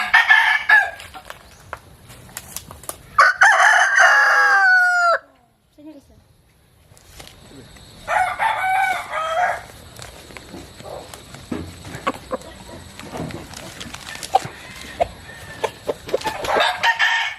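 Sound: fighting rooster crowing

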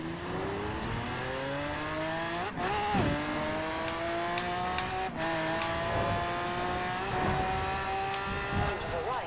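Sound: car engine accelerating, Forza Horizon 4 video game

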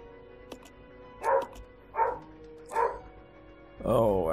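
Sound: dogs barking in the video game Resident Evil 0

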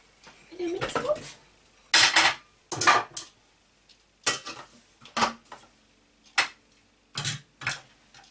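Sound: onion being added into a Thermomix mixing bowl

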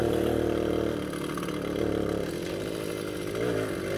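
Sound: Soviet Riga Mini RMZ moped engine while riding

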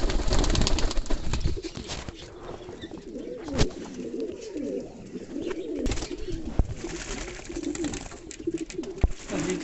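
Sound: king pigeons cooing

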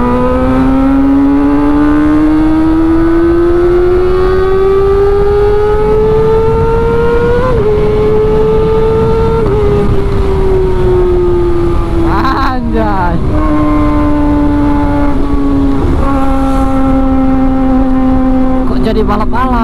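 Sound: motorbikes racing and revving on the road

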